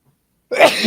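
A single sudden sneeze bursts out loud and close after a moment of silence, sharp at first and then trailing off.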